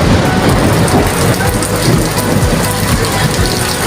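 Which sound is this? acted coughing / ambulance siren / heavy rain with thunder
heavy rain with thunder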